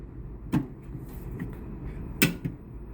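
Two crisp clicks of a mini toolbox drawer snapping shut, about two seconds apart, over a low background hum.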